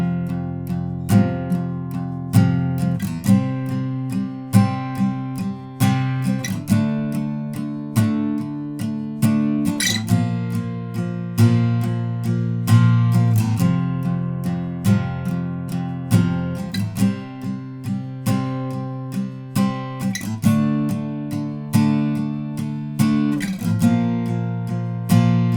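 Acoustic guitar strumming the easy verse and chorus chords of a song in a steady repeating pattern, close and loud, with no talking.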